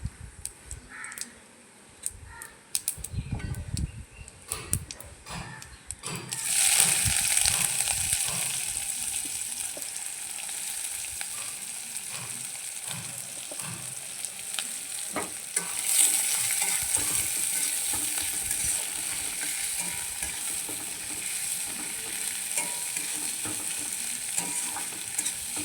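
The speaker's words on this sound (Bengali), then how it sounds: "তেলের মধ্যে এবার 5 ফোড়ন দেবো আর পেঁয়াজ কুচি দিয়ে দেবো" Five-spice seeds and chopped onion frying in hot oil for a Bengali ridge gourd fritter curry, a quiet start giving way to a loud, steady sizzle with occasional stirring scrapes throughout.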